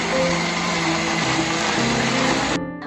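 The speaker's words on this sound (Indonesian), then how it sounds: "Blender kulit buah naga dengan 300 ml air hingga halus" A kitchen blender purees chopped dragon fruit peel with 300 ml of water, a loud steady whirring motor drone that shifts pitch slightly as it runs, then cuts off abruptly near the end, leaving a brief winding-down hum.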